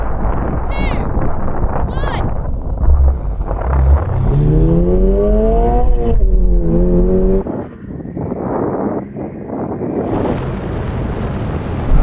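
A Toyota GR86 and a Mk4 Supra launch in a drag race, engines revving up through rising gears under heavy wind noise, loud and close to the microphone, with a voice talking over it.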